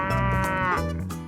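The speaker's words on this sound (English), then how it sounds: "who's that mooing?" Cows from a herd standing around a campsite on Fraser Island let out a long, loud, close moo that holds steady, then drops lower and trails off.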